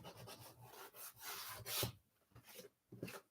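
A wooden craft sign being sanded by hand, giving short rasping strokes in irregular bursts with brief pauses between them, quiet and close with no voices.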